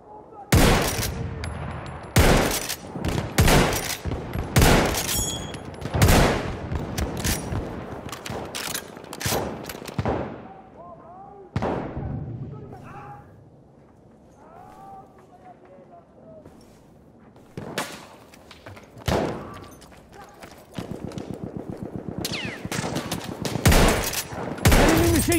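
Bursts of enemy machine-gun fire in a war video game, loud rapid volleys with gaps between them, mixed with footsteps and shouted voices in between.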